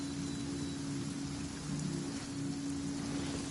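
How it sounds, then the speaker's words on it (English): Steady rain falls in the Genshin Impact game, heard in the Fontaine Archon Quest as a continuous even hiss with a low rumbling undertone throughout. No one speaks. "Marching in the rain conceals the sound of our arrival"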